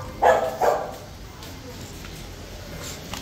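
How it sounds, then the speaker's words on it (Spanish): Two loud dog barks close by in quick succession, followed by quieter room sound with faint background voices. "Mira a estos perros."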